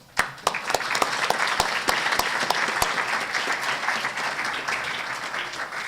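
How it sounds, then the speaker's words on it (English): An audience at a panel discussion on smallholder farming innovation claps for the panelists, a few sharp individual claps at first, then steady, full applause that holds throughout. "please join me in a round of applause and thanks for our panelists."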